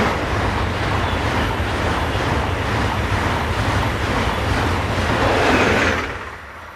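Passenger train 401088 on a Zurich to Kiel service passing close by, a loud, steady rolling roar of wheels on rails that holds for about six seconds before quickly fading away, with no talk.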